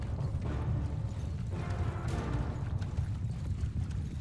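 Cavalry horse archers gallop in the medieval battle game Mount & Blade II: Bannerlord, a steady rapid clatter of many hooves under low battlefield rumble, continuous and moderately near, with no talk.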